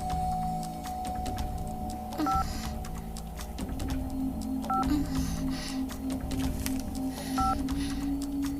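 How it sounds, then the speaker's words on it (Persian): A telephone is dialed: a series of clear DTMF keypad tones beep at a steady pace, each note sounding over a steady background hum and a faint low tone, with no talking. "من تلفن میکنم."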